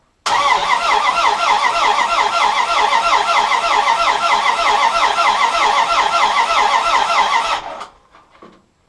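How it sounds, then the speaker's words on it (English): A starter cranks an engine over with no spark during a compression test, a loud, rhythmic, steady churning that runs for about seven seconds before cutting off abruptly. "So let's crank this over a bit, see what kind of compression we get."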